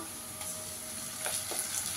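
Ginger garlic paste frying in a pan for chicken Dak bungalow, a quiet continuous sizzle with a few soft scraping stirs and clinks, no voices.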